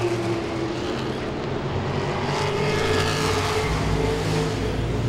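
Modified race cars roar around Langley Speedway in a dense, continuous wash of engine noise, several motors overlapping at a distance while the pack races on.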